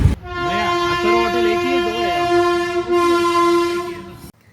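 A train horn blares loud and steady at a closed railway crossing in India while a train passes, one long sustained blast with a brief dip partway, held for several seconds.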